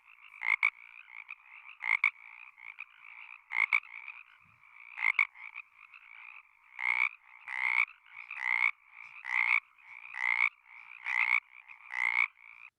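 A male Pacific chorus frog calls in a quiet recording: four two-part diphasic croaks, then a faster, regular series of single-part monophasic calls, loud and close with no other sounds.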